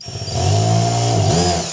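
A hammer drill in hammer mode buzzes steadily as it bores a small pilot hole into a smooth wall, loud and close, running for about a second before winding down.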